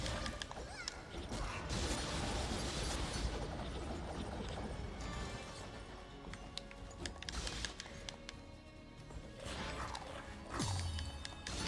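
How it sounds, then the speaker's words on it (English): An elevator grinds along in the game Dust: An Elysian Tail, with a continuous mechanical rumble, creaks and clanks, and a sudden impact near the end. "I was having such a peaceful elevator ride"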